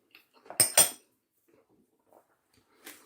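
A metal spoon clinks against a bowl of potato salad, two sharp close clicks followed by softer scrapes and a final clatter, with no talking.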